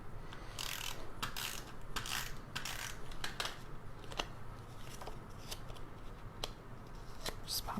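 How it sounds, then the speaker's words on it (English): A Snail adhesive tape runner laying glue onto a paper treat box gives a quiet run of irregular clicks and short ratcheting snaps over a soft steady background. "We're just gonna glue this together. I'm gonna use my Snail adhesive."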